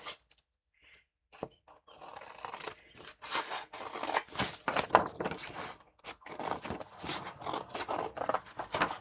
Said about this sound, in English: let's get the fancy scissors